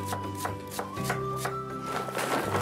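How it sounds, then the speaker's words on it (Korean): A kitchen knife chops radish on a cutting board in quick, crisp, evenly spaced strokes, close and fairly quiet, with a steady tonal hum underneath. "아주 칼질이 신났어요 지금."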